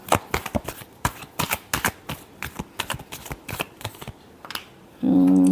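Tarot cards are shuffled by hand in a rapid run of close, crisp riffles and taps, ending in a short burst of a steadier, louder noise.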